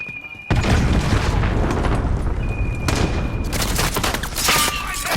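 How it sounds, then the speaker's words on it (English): Cruise missile strike in Call of Duty: Modern Warfare, a loud sustained booming barrage lasting several seconds with crackling gunfire layered on top, and a game voice speaking over it. "Allied cruise missile away."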